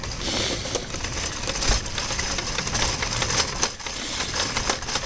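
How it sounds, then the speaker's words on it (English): Gears and directional control mechanism of a Zodiac MX8 pool cleaner give a steady, close mechanical clatter, a dense rapid ticking and whirring that runs on unbroken. "the directional control device actually reverses the movement of the gears here"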